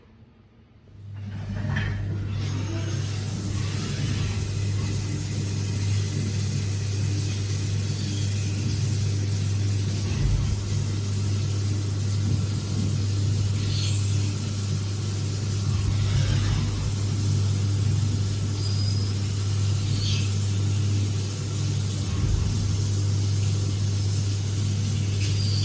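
A Haas VF CNC machine drills holes in sheet metal, a steady low hum and drone that starts abruptly and holds for about twenty-five seconds with faint intermittent scraping and clanks over it.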